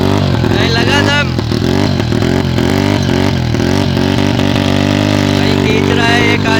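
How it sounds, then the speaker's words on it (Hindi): A motorcycle engine revs hard and repeatedly while climbing a steep off-road slope, loud and close, with rising and falling throttle bursts and people talking over it. "भाई चढ़ा के रहेगा, बाइक को चढ़ा के रहेगा।"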